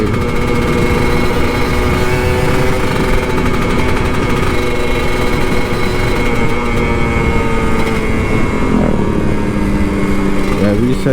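A Kawasaki Ninja RR 150 motorcycle engine idles and revs close by, a loud buzzing two-stroke drone holding steady pitch for the whole stretch, with some talk faintly underneath.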